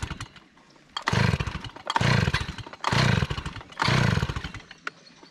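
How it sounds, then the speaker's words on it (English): A chainsaw cutting large, dying poplar trees revs hard in four loud, evenly spaced bursts, idling low in between. "Every time I come out here and use the chainsaw, I start cutting."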